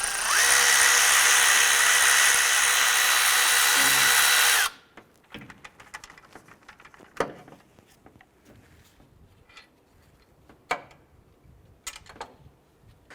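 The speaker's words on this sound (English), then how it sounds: "Let's go ahead and remove this upper pivot bolt." A power tool whines loudly and steadily for several seconds while removing the upper pivot bolt of a Honda Civic alternator, then stops, followed by scattered clicks and taps of tools and metal nearby.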